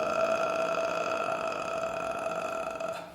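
A voice using vocal fry to imitate the creaking ghost noise from The Grudge, a steady low crackling rattle held for about three seconds, close and continuous with no words.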